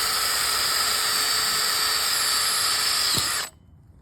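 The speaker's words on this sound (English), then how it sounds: "drill a small hole for the fuse" A steady high-pitched whine of a small drill boring a fuse hole in a metal shotgun barrel, close and loud, then cutting off abruptly near the end.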